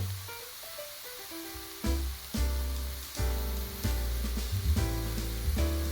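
Fennel, olives and artichokes frying in a pan, a steady close sizzle and hiss with occasional louder bursts as the vegetables shift, no voices.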